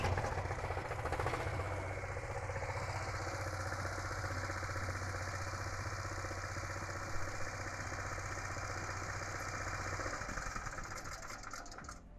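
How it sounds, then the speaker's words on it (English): A small portable generator engine runs steadily after a pull start, a continuous close mechanical drone with a low hum that holds for about ten seconds, then changes near the end. "after the generator has come on, you return the choke"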